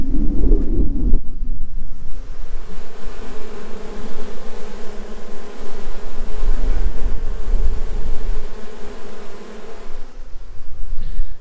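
Loud, continuous droning hum of a large bee swarm up close, unbroken throughout with no voices.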